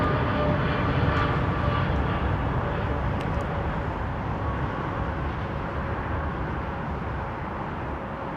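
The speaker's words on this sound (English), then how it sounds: "Creaky old 777." A Boeing 777 airliner at London Heathrow Airport produces a steady, broad jet engine roar that stays loud and constant, easing slightly toward the end, with no voices.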